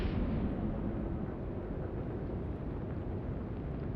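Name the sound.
torpedo hitting a ship, explosion, in video game Atlantic Fleet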